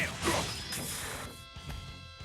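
Sword skill Gale in the RPG Trails of Cold Steel: a sharp slashing crash with a swoosh, followed by a string of quick impact hits over game music.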